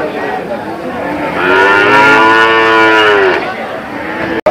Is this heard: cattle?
yes